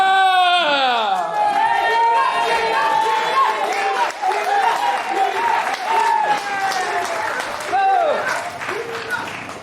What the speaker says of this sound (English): Well, the crowd are going wild.